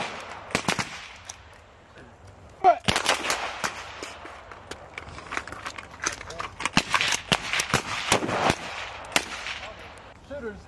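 Bursts of full-auto gunfire at a Marine Corps range at Camp Lejeune, with sharp repeated volleys crackling through the clip over steady outdoor background noise and occasional voices.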